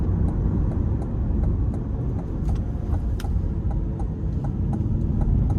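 A 2027 Chevrolet Corvette Stingray Coupe 1LT with the 6.7 engine, heard from inside during a test drive as a loud, steady engine drone that holds throughout with no talk.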